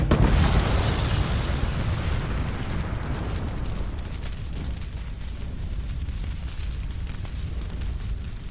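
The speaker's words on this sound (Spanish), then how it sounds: "su lanzallamas improvisado se expandió demasiado y calentó la lata, que terminó por provocar una pequeña explosión" A small explosion of a can overheated by an improvised flamethrower bursts loudly at once, then fades into a long, rough, crackling roar like burning debris, with no voices.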